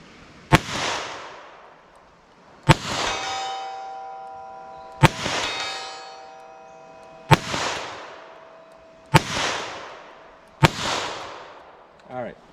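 Handgun shots fired at 75 yards, each sharp report followed by the ringing clang of a struck steel target; six evenly spaced impacts with long, decaying metallic tones between them, no talk.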